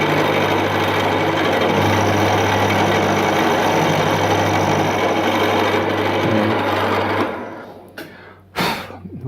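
A milling machine cutter chatters steadily on an aluminium profile punch, climb milling with a dense, grinding whine under a low motor hum. The cut stops near the end, leaving brief clanks and a quieter tail.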